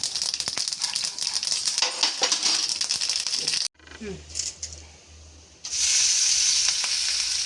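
Mustard seeds crackle and sizzle loudly in hot oil for a white lemon pickle, a dense close fry that briefly drops out before surging back, with a voice speaking over it.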